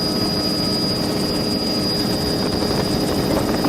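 Steady loud engine drone and rotor hum of an aircraft on an aerial survey flight along a reef-lined coast, continuous and unbroken throughout with no talk.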